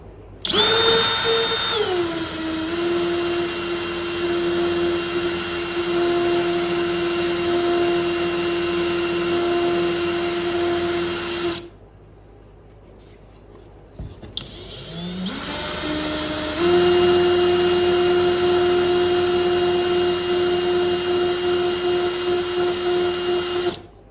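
A drill spins a Winchester Model 60A rifle buttstock screw against 320 grit sandpaper, a loud steady whine lasting about ten seconds. The motor stops, and after a short pause with faint handling noise it whirs up again and runs steadily to the end.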